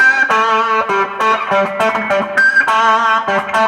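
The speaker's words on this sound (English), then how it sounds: "Do you hear that little beep, beep," A Harmony Comet guitar plays loud, distorted chords with short bright beeping tones poking out between strums, heard alone with no voices.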